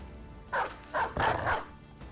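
In the game Beast Slayers, a dog barks three or four times in quick succession, close and fairly loud, with no voices.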